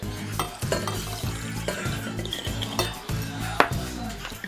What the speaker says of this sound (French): Alors là on mélange, je mélange avec ce que j'ai, hein, c'est-à-dire une fourchette.